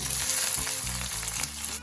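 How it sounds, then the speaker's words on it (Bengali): Chopped onion sizzles in hot oil in a karahi with bay leaf and cumin for an egg curry, a steady loud frying hiss running through the whole short moment with no voices. "এরপর দিয়ে দেবো পেঁয়াজ কুচি"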